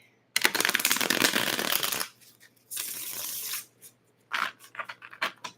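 Cards shuffled up close, with a long riffle of rapid flicking, then a shorter riffle and a few quick taps and bridging sounds, loud and without talk.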